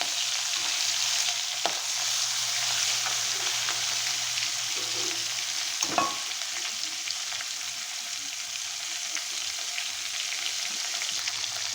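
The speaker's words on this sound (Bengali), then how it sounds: "মাছের মধ্যে সামান্য পরিমাণে ডিম ছিল, ডিমটাকে আমি ভেজে নেব।" Rohu fish roe sizzles steadily as it fries in a pan, with a brief clatter of stirring about halfway through and no voices.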